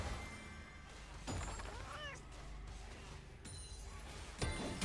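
Cat meows in League of Legends, a few short rising-and-falling mews cutting through busy game effects and noise, mid-level and fairly close.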